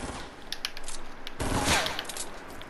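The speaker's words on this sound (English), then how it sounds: "Who's shooting?" Gunfire in Fortnite, heard as a scatter of fairly faint shots at a middle distance, then a louder, denser burst about halfway through, all over a steady noisy background.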